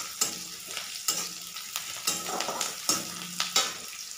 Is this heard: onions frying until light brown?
yes